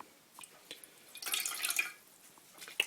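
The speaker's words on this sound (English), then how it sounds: "we're going to wet the sponge" Water trickles and drips as a sponge is wetted during a fretless guitar neck conversion, a short, close splash building in the middle with faint drips around it.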